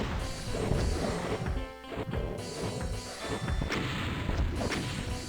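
Rocket launcher fire in the Doom map Scythe II: repeated loud blasts and crashing explosions in quick succession, with a short lull in between and dense game effects throughout.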